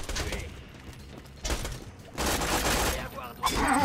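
Enemy gunfire in the video game Borderlands 2, rattling out as repeated volleys of shots coming from behind the player, loud and dense in bursts, with game noise between the barrages.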